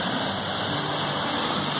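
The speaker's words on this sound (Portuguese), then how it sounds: "Olha só a cachoeira." A waterfall among natural vegetation with palm trees pours steadily, a dense, continuous rush of water that fills the scene from start to finish with no voices over it.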